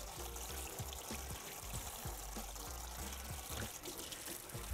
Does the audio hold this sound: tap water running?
yes